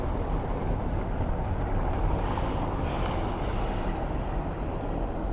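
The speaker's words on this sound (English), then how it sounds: "Some Coast Guard boats. Look at that thing spin around." A Coast Guard boat spins around on the water in the Bay of Naples off Ischia. Its steady engine rumble blends with constant wind buffeting the microphone, with no distinct events.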